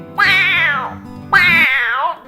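A cat gives two long, loud, close meows, each drawn out and falling in pitch, with a short gap between them and no talking.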